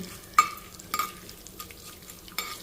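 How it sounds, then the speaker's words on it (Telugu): Green and red chillies fry in hot oil in a pan, a steady close sizzle broken by a few sharp scrapes and clinks of stirring, with no talk. "చూడండి చక్కగా వేగుతున్నాయి"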